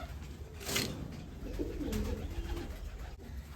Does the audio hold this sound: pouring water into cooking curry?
no